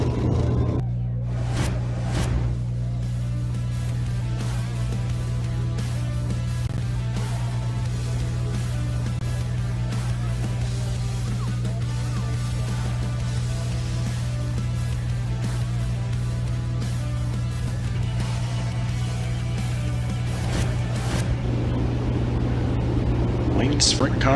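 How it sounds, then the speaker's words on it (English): Sprint cars in a Montana Spring Roundup feature race, heard as a continuous loud, droning engine roar from the pack that holds steady throughout, with an announcer talking over it. "Sprint cars about to go back to green."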